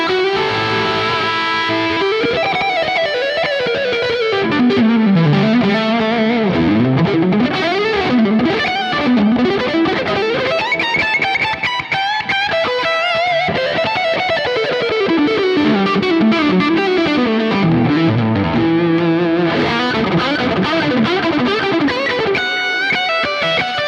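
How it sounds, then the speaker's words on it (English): Electric guitar through an Archetype Nolly overdrive pedal, played as fast shredding runs with sweeping, gliding notes, heavily distorted and loud, continuing without pause and with no talking. "turn on this overdrive pedal, overdrive 2, and we can achieve all the shreds"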